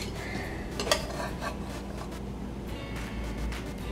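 A utensil scrapes and clinks against a pan while dislodging stuck taco filling, giving a few sharp metallic knocks followed by steady rubbing under low background noise.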